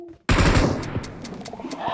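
Gunfire in PUBG: a sudden loud burst of automatic shots, followed by a few scattered, sharper distant cracks as the echo fades.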